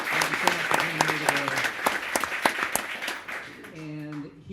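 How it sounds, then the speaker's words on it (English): An audience at a book talk claps for the author and moderator, a dense burst of applause that fades out near the end while a voice speaks over it. "let's give a big round of applause for our author and moderator"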